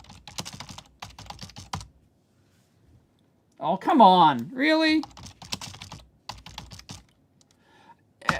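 Clattering bursts of typing on a computer keyboard, close and fairly quiet, in short rapid runs separated by pauses, with someone speaking briefly over it and a high whistle-like tone in the middle.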